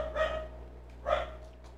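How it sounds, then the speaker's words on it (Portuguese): Two barks from dogs somewhere in a home, spaced about a second apart, moderately loud over a low steady electrical hum. "Desculpem pelos cães,"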